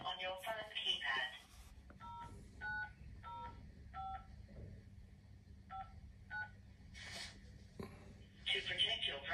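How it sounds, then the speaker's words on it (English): A phone keypad sends a series of DTMF tones while a date of birth is entered, about eight short, evenly spaced beeps. A recorded voice speaks before and after them over a low steady hum. "Please enter the day, the month, and the last 2 digits of the year on your phone keypad."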